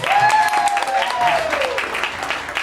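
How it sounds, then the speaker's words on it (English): An audience claps and cheers for a master of ceremonies, dense applause with a whistle or whoop rising over it, filling the room close by. "Give yourselves a round of applause."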